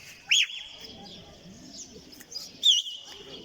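Domestic pigeons outdoors, giving two short bright calls about two seconds apart over faint low background noise.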